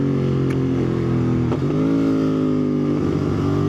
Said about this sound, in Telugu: అది నడుపుతుంటే ఏదో తెలియని ఆ ప్యారలల్ ట్విన్ సౌండ్